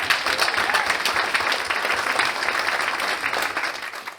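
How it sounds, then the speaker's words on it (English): Steady, dense applause from a conference audience after a session on vaping and inhalants at a state drug and alcohol conference, continuous and fairly loud throughout with no voices over it. "Massive round of applause, please."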